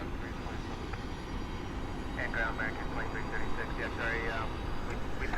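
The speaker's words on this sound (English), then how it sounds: "we have a United MAX 8 that just came in from Newark" A United Boeing 737 MAX 8 arriving from Newark produces a steady, broad jet engine rumble at an airport gate area, with a voice talking over it.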